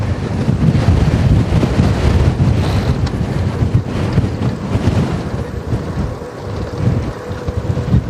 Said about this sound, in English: It's tough when you get the big gusts.